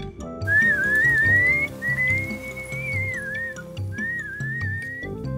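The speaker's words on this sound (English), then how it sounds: "I constantly whistle, so the wild animals know I'm around" A Maasai herder whistles continuously while herding cattle in lion country, a loud, close, wavering tune in long unbroken phrases with brief pauses between them.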